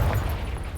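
A Confringo fire spell explodes in the video game Hogwarts Legacy, a loud, deep booming blast with heavy low rumble that stays dense for under a second, with no talking.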